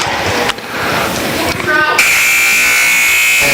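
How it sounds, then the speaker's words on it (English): A loud, steady electronic buzzer tone ends the first quarter of a girls' varsity basketball game, sounding over crowd noise and announcer chatter in a gym, holding for over a second. "the buzzer sounds to end the first quarter of play"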